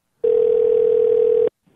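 A telephone dial tone sounds after a caller hangs up, a single steady loud tone lasting just over a second, then silence.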